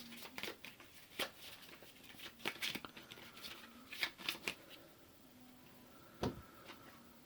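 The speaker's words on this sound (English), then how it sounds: "we need to shuffle and go again" A deck of board game cards being shuffled for Dune Imperium, a series of soft riffling bursts and taps close by, fairly quiet and uneven over several seconds.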